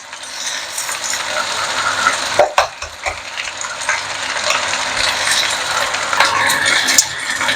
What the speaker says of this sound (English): Just push to the side of the pan and then crack the egg